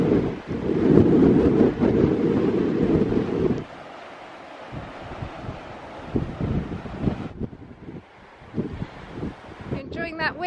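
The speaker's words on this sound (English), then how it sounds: "Enjoying that wind? It's blown away the cobwebs." Strong gusts buffet the microphone on a coastal headland walk between Predannack Wollas and Mullion, loud at first, then easing into gentler wind with surf-like rushing as people talk nearby.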